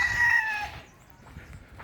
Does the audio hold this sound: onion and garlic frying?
no